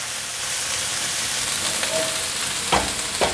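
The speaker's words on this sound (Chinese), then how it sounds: "这毛豆是冷冻的毛豆，是熟的，所以大略翻炒一下，让所有味道都融合" Frozen cooked edamame being stir-fried in a wok crackles and sizzles steadily up close, with a couple of sharp clanks of a spatula against the pan toward the end.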